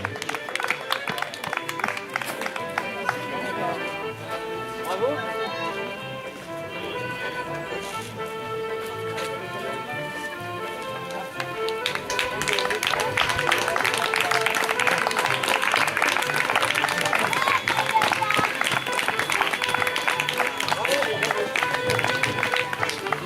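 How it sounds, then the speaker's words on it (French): A crowd applauds finishers at a footrace: clapping stays moderate at first, then swells into sustained, dense applause that runs steadily to the end, with voices mixed in. "On peut l'applaudir."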